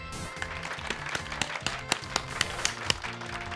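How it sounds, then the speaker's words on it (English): Applause for Pikachu in the video game Pokemon Violet comes as a synthetic game effect: crisp, evenly spaced clap-like ticks over bright, tonal chiming, moderately quiet and steady for a few seconds. "Give Pikachu a round of applause, everyone."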